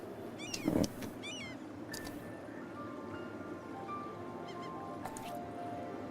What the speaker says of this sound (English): the Vietnamese cat